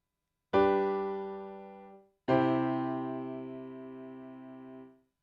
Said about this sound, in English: a perfect cadence is usually the 5 or the dominant chord leading to the 1 chord.